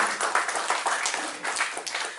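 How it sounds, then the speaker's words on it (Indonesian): An audience of guests at a media discussion and swearing-in ceremony claps continuously, a busy, textured burst of many hands that stays fairly even throughout the short stretch. "Boleh tepuk tangan Bapak dan Ibu untuk kita semua."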